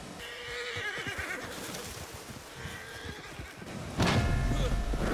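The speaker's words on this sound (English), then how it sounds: "Stole this horse, wild horse." A wild horse neighs in a video game, with clip-clop hoofbeats and busy game sounds around it, and a louder burst near the end.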